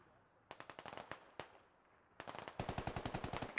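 Rapid automatic gunfire in the video game Squad, several bursts of close, sharp shots with short gaps between them, ending in a dense sustained volley.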